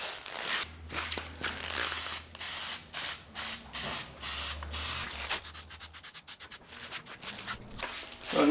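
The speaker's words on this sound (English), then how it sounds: "some of these spots I'm going to spray again" Paint remover sprayed onto a Porsche 911 (997 Turbo) exhaust in repeated short hissing bursts from a trigger sprayer, close and crisp, with a steady low hum beneath and no talking.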